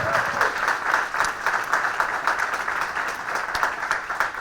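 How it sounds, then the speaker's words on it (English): Sustained audience applause at a Selma town hall on restoring the Voting Rights Act, a dense steady wash of clapping filling the room throughout with a few louder individual claps. "Give them a round of applause for always"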